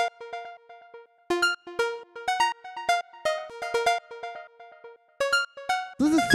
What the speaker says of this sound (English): So the next sound I have here is the lead